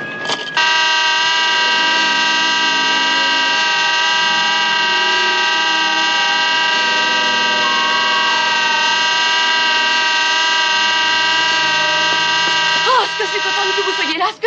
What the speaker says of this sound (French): Penche-toi sur la voiture maintenant et klaxonne.